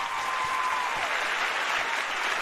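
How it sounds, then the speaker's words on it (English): Festival audience applause for a youth traditional dance group from Laos, a steady, full wash of many hands clapping that holds evenly throughout. "please give our youth from Laos with another round of applause"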